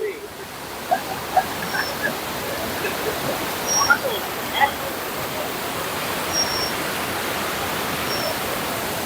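A river flows below Watu Ondo waterfall in Cangar, Batu, East Java, a steady broad rushing wash heard from just above the water, with faint intermittent voices and a few chirps over it.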